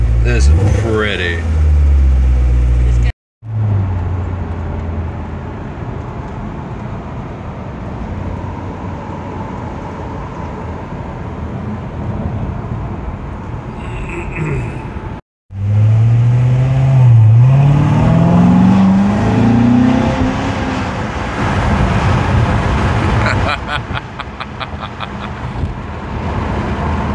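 Chevrolet Corvette engine running and revving, a loud close rumble with rising and falling revs and a couple of abrupt cuts, with people talking over it at times.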